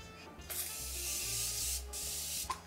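Morphe setting spray misted in two or three short, close pumps of airy hiss during a glowy skin makeup routine, in a quiet room with no talk.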